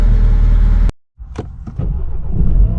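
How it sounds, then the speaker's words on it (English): A 2012-2017 BMW F30 328i petrol engine cranks and catches after a brief silence, rising into a close, loud, steady idle with a couple of sharp clicks as it starts. "I'm going to start the car up"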